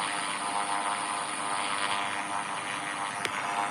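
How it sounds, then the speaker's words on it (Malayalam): Propeller airplane flying in a mobile 3D game, a steady loud engine drone that holds unbroken throughout with a brief click near the end. "പ്ലെയിൻ പറക്കും."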